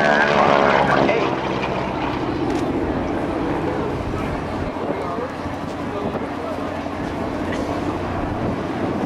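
A 5,500-pound, 600-horsepower propeller aerobatic airplane performs at the 2012 NAS Oceana airshow, its engine a loud, steady droning roar that swells slightly at the start and then holds, with a voice faintly present.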